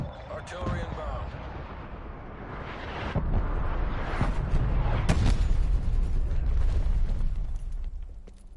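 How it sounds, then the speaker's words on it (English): Heavy artillery explosions rumble and crash in the Call of Duty Cold War multiplayer match, a loud, sustained barrage building from scattered blasts into a dense roar over several seconds, with an in-game radio voice calling out alerts. "Hostile artillery targeting active."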